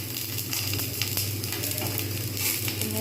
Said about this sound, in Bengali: এবার এর মধ্যে আমি একটা একটা করে পাতুরিগুলো নেব নিয়ে একটা একটা করে বসিয়ে দেবো